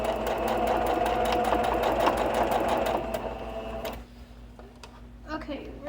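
A sewing machine hums and stitches steadily around the edge of a fabric sunglasses case, running loud and close for about four seconds before stopping, followed by faint handling sounds.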